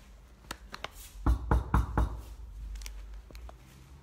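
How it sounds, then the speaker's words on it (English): Someone knocks on the door of a flat: a few light taps, then a burst of four firm, close knocks, followed by quiet room tone. "Maybe I'll just chap a door and see."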